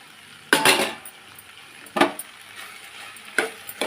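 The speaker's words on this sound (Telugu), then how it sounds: "చూద్దాం దొండకాయలు ఎంతవరకు మగ్గిందో ఫ్రై." Ivy gourd (tindora) stir-frying in a pan, with three sharp bursts of sizzling and scraping as the pieces are stirred, separated by quieter stretches of low crackle.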